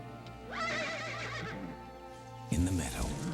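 A horse gives a long, quavering whinny close by, then a second, rougher neigh after a brief pause.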